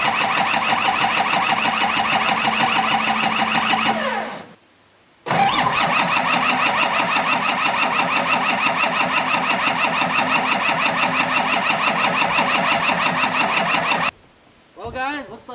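A diesel truck engine cranks and catches, then runs in a loud, close, rhythmic clatter for several seconds, cuts out briefly, restarts and keeps running before stopping again.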